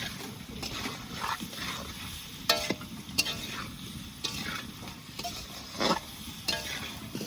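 Food fries in a pan as part of a village chicken and taro curry, a faint steady sizzle with occasional scraping clinks of a utensil stirring, close and quiet.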